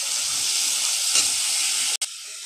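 Chopped banana stem fries in a hot pan with a steady, loud hiss that holds almost without a break, cutting out for a moment just before the end.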